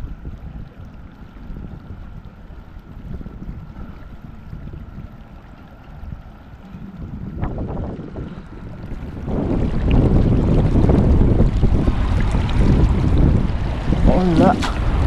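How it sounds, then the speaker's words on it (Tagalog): Strong wind blows across an open stretch of sea, rumbling steadily into the microphone and growing louder and rougher partway through, with broadband gusts near the end and no voices. "Lakas ng hangin dito."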